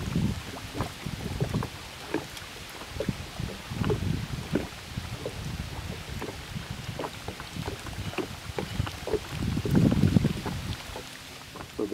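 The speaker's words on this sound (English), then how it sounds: "So the way the wind was blowing," Wind gusting over a lake during a fishing outing, a steady low rumble with buffeting swells and microphone wind noise that rises and falls, loudest near the end, with no talking.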